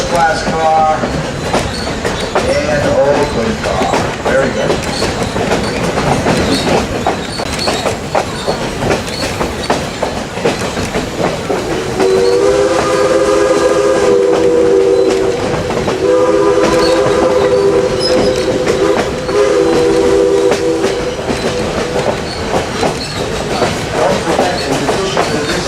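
Essex steam train rolling along the rails, a steady loud rumble and clatter with a sustained horn or whistle sounding from about the middle of the run, voices faintly underneath.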